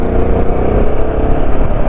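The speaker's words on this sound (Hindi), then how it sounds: "इतना रेव करेंगे तो क्लच जल जाएगी यार।" A new Royal Enfield Himalayan 450 motorcycle's engine revs hard and loud, a dense, steady roar filling the short moment with no voices over it.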